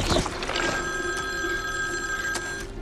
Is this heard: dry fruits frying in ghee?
no